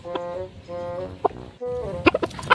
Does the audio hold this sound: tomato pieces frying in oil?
no